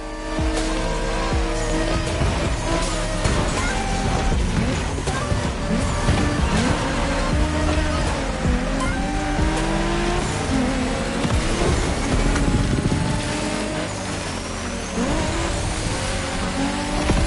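Race cars in The Crew Motorfest video game, engines roaring and revving at full throttle with tires squealing and skidding, a loud, continuous pack of vehicles racing together.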